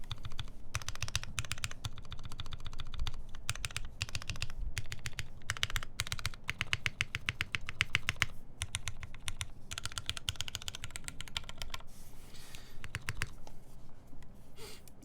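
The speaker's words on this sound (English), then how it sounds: "I like the spacebar sound." Continuous typing on a custom TGR Jane v2 mechanical keyboard, with dense, rapid clacky keystrokes running steadily throughout, close and clear, with occasional heavier spacebar thocks.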